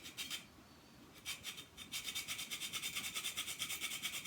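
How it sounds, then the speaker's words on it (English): A whole nutmeg is grated in a small hand grinder, giving a quiet, quick rhythmic rasping. A few strokes come first, then a brief pause, then a steady run of fast scrapes. "So here I've got my little nutmeg grinder that I keep the little whole nutmeg in."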